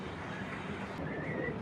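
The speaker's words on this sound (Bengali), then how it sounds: "গিরিবাস সেক্টরে এত বড় মিলিটারি কবুতর আমি খুব কমই দেখছি" Large Giribaz military pigeons at a pigeon farm coo softly and continuously, faint against a low background hum, with no talk.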